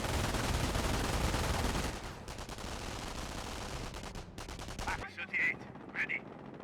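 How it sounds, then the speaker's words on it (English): Jeep-mounted machine gun in Company of Heroes firing sustained bursts, a dense rattling stream that thins into separated rapid shots, with scattered battlefield effects afterward. "Jeep firing away."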